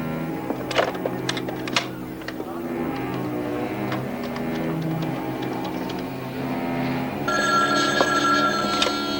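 A telephone rings indoors in a dramatic scene, with repeated bursts of bright electric bell ringing over a busy room tone and faint clicks, growing more prominent toward the end.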